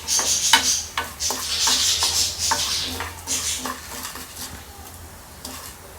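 Mustard seeds frying in hot oil in a pan for hotel-style idli sambar, stirred with a spoon; rhythmic scraping and clinking strokes over a steady crackling sizzle, close and fairly loud throughout.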